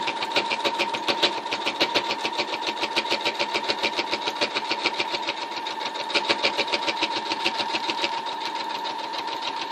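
A sewing machine runs continuously, stitching fabric for a pocket bow with a fast, steady, even rhythm that barely changes speed. It is close and fairly loud, with no talking over it.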